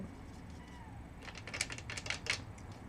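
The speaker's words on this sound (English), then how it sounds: "I don't know if you can hear my cat meowing." A house cat meows a few times, faint and muffled as if from another room, in a quiet indoor space during a flower vase painting session.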